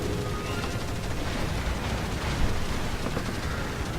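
Naval gunfire rumbles through a World of Warships battle, a dense, continuous roar of distant cannon blasts that runs steadily throughout, with one slightly louder boom midway.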